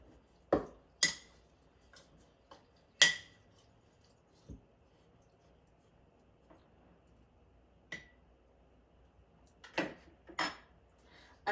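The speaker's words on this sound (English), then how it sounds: "this beautiful dark greenish yellow concoction. I'm going to stir this." A herbal remedy concoction being stirred in a container, heard as a few sparse, sharp clinks and taps of a utensil against the sides, separated by quiet pauses.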